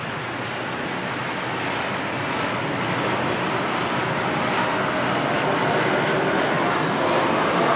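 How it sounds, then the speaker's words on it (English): A departing Airbus A380 jet at Sydney Airport in wet, windy weather gives a steady, broad roar that swells slightly louder over the clip, with engine noise mixed into wind and spray hiss and no talk. "Really looking forward to seeing the A380s depart."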